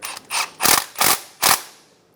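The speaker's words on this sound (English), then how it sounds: "Using a 14mm socket, I'm going to tighten down the bottom bolt." A 14mm socket on a ratchet tightens the bottom bolt of a power steering pump on a 2007-2012 Nissan Altima, giving five close, sharp bursts of ratcheting in steady succession, with no voices.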